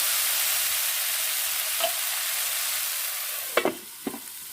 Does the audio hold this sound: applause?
no